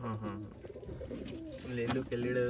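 Pigeons in a loft, some Chinese-type birds among them, coo in layered, repeated calls close to the microphone, with a voice talking over part of the cooing.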